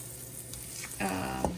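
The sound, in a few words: tilapia frying in olive oil and butter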